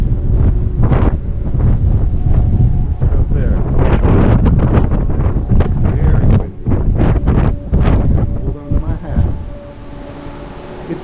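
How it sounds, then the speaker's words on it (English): Strong gusting wind buffets the microphone on the open upper deck of the cruise ship Utopia of the Seas, loud and blustery, with a low rumble of the vessel beneath. "Now we're outside and it's windy."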